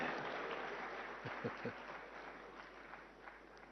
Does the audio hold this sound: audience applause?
yes